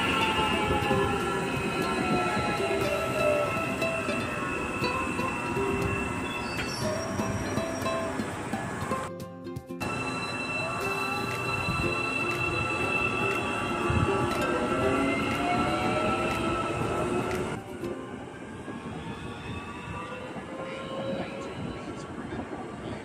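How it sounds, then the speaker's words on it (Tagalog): A long passenger train in New Zealand at afternoon peak hours rolls past nearby in a continuous loud rumble with wheel hum and faint squeals, a brief break midway, and a voice speaking faintly under it. "Medyo nagtaka pa nga ako at bakit ang haba naman ng tren na ito?"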